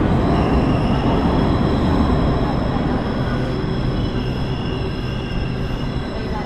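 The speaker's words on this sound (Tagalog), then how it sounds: "Sakto dating natin, nandito na yung train." An LRT train pulls into a station with a loud, steady rumble of wheels and carriages and a faint metallic squeal, with no voices over it.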